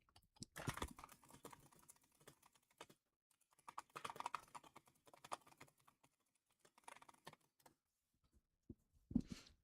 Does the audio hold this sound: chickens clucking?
no